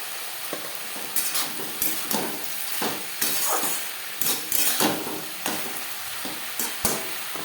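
Potatoes with onion, garlic and spices fry in a pan while a spatula stirs them with repeated scraping strokes, each one distinct and close over a continuous sizzle.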